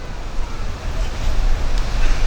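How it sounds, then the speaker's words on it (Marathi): Heavy sea surf at Calangute in Goa roars in a continuous, loud low rumble with wind buffeting the microphone, swelling toward the end. "आज समुद्र जास्ती जोराजोरात बोलताना आपल्याला ऐकू येतो"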